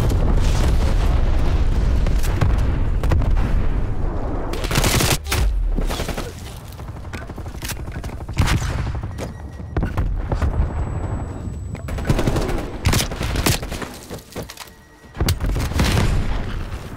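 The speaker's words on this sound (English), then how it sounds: "napalm strike inbound" Napalm strike explosions in Call of Duty: Black Ops Cold War on Nuketown 1984, heavy rumbling booms and blasts rolling on continuously, with scattered gunfire cracks layered over the loud low roar.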